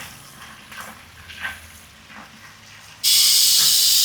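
Green peas dropped into a hot pan for Hyderabadi bagara rice, a faint hiss with light clinks at first, then a sudden loud, steady sizzle for the final second.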